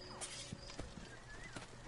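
A horse moves in the ancient Egypt setting of the video game Assassin's Creed Origins, with a few faint clip-clop hoofbeats and a soft whinny over low ambient game sound.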